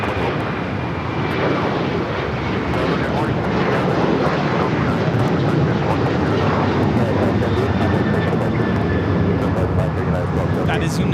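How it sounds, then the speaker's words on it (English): A United Airlines Boeing 737-900ER takes off at LAX with a loud, sustained jet roar that stays dense and steady throughout, while voices talk over the engine noise. "That is United Airlines 1278 taking off to Cancun on the 737-900ER."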